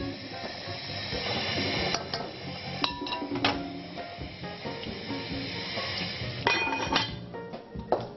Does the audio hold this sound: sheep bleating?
no